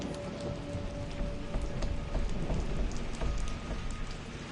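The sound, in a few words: rain and thunder on a stormy night in Tomb Raider VR video game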